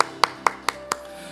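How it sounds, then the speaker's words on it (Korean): Congregation clapping at a Korean Wednesday church service, heard as four distinct, evenly spaced claps about a quarter second apart, fairly close and dry, then quiet. "하나님께 영광의 박수 올려드리겠습니다."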